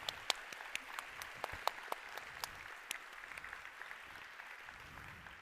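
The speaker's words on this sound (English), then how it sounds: "So can you all join me in giving them a round of applause?" An audience at the GopherCon 2023 tech conference gives a round of applause, with individual sharp claps standing out over a thinner, fairly distant bed of clapping that tapers off over about five seconds.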